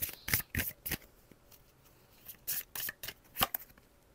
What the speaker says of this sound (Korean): 마지막으로 조언 카드 한 장 볼게요.